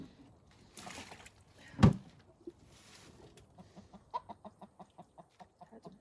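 A laying hen clucks in short, quiet repeated bursts, a rhythmic series of soft clucks after a brief louder squawk, heard close with faint rustling and no talk.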